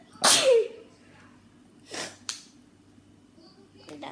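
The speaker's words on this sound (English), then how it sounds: "I gotta sneeze again" One sharp, loud sneeze bursts out close to the microphone, then a second smaller sneeze-like burst follows about a second and a half later in an otherwise quiet room.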